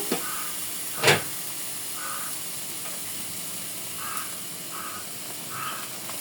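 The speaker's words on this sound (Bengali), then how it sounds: "আমার মশলাটা কষানো হয়ে গেছে চিংড়ি মাছগুলো দিয়ে দেব" River prawns drop into a hot spice paste in a village-style kitchen, giving a steady hissing sizzle throughout with one sharp louder burst early on and faint bird calls outside in the background.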